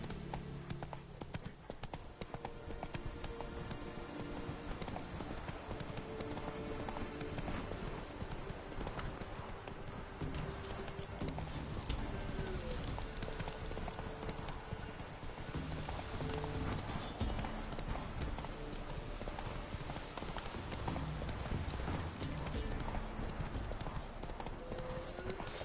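Roach the horse trotting in Witcher 3, steady clip-clop of hooves on ground buried in a dense, loud wash of game sound and music, continuous throughout with no clear pauses.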